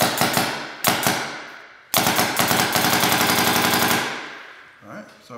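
Proto 2011 Rail paintball marker firing without paint: a few sharp single shots, then a short pause and a rapid string of loud, close pops that trail off.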